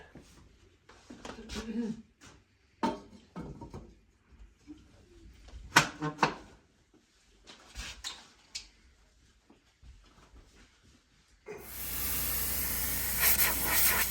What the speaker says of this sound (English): The steam is coming out good.